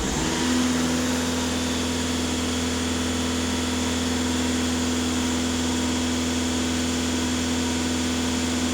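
A Volkswagen diesel car engine, on a Caddy, Passat or Golf with a turbo underboost fault, is held at raised revs as a loud, steady drone with a constant tonal hum and no pauses.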